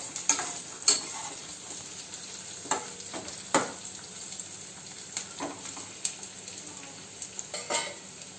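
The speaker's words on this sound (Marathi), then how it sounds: "लाल होईपर्यंत आपण तापवतो यामध्ये आता कढीपत्त्याची काही पानं टाकली आहेत" Curry leaves sizzling in hot oil in a pan, a steady crackling fry punctuated by sharp clinks of a spoon stirring against the metal, close and moderately loud with no talking.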